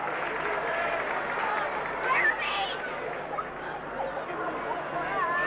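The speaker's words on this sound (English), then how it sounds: "As the crowd cheers." A rugby league crowd at a 1987 match cheers and claps as a dense, moderately loud roar, with a brief swell near two seconds and babble mixed in throughout.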